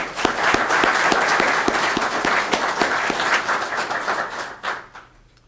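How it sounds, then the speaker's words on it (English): Applause from the audience at a fire, rescue and EMS awards event for the 16th Congressional District, a dense, loud burst of many hands clapping that holds steady for about four seconds, then thins and fades out. "He deserves a big round of applause."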